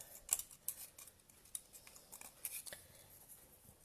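Hand snips cutting thin paper during a Stampin' Up card-making session give a few faint, sharp clicks spaced irregularly across a quiet room.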